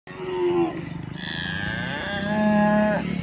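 Cows on a village farm moo in long, drawn-out calls, two or three overlapping lows close by and loud, with no talk over them.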